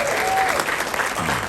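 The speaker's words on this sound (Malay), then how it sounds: "bagi tepukan" Applause from an audience honouring the founders at a house meeting, a short burst of steady clapping from a gathered crowd.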